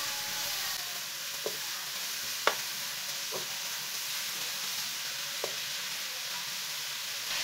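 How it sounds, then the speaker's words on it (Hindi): Grated carrots fry in hot oil over a medium flame, giving a steady close sizzle with a few soft taps from a spoon stirring the pan, while no one talks. "अब इसे ऐसे ही चम्मच चलाते हुए 4-5 मिनट तक भून लेंगे।"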